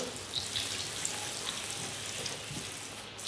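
Farofa stirs in a pan of plenty of melted butter, giving a soft, steady sizzle that holds level throughout, close and moderately quiet, with no voices.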